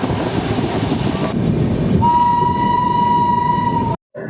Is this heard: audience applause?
no